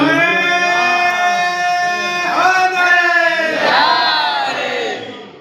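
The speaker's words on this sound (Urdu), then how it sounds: "نعرے کا جواب بھی سب لوگوں نے مل کر" A large crowd at an Arbaeen religious gathering in Ghanta Ghar, Meerut, shouts a drawn-out slogan response in unison, loud and sustained, voices rising and falling together.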